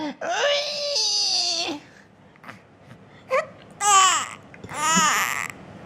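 A voice imitates baby babbling, with drawn-out wavering cries and squealing syllables separated by short pauses.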